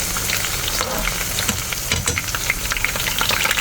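Garlic fries in a hot pan with a loud, continuous sizzle and crackle, close and steady, with occasional stirring scrapes and no talk.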